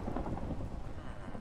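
A Minecraft thunderstorm, with rain hissing steadily and a low rumble of thunder rolling under it, continuous and moderately loud with no voices.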